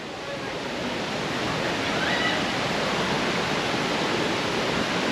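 Kroeng Krawia Waterfall in Khao Laem National Park, Thailand: a steady, broad roar of falling water, loud and unbroken throughout with no talking.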